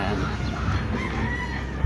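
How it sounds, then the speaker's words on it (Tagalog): Chickens kept below a hut at a home in Cavite cluck and stir close by, a dense, busy fowl chorus with a brief thump near the end. "Sa baba may manok."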